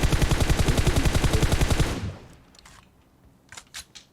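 Gunfire in PUBG Mobile: a loud, rapid automatic burst of closely spaced shots lasts about two seconds and then cuts off, followed by a few fainter, scattered shots in the distance.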